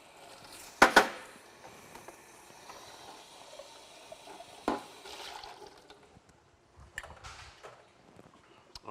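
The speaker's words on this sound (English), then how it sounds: "let me rinse my tins." Water runs and splashes as cocktail shaker tins are rinsed, with a couple of sharp bursts of splashing and clanking among softer intermittent running water, close by and without talk.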